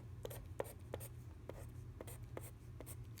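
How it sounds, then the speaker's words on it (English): Pen or marker writing out a mini place value chart on paper or a board, a run of short scratchy strokes with brief pauses between them, faint and close over a low steady hum, no talking. "let's write out our mini place value chart"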